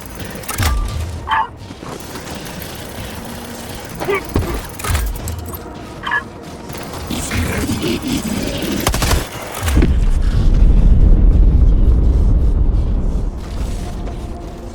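Heavy cannon fire and booming explosions from a hijacked automaton orbital cannon in the Helldivers video game, with scattered blasts building into a sustained loud rumble in the second half, plus some voice-like sounds mixed in.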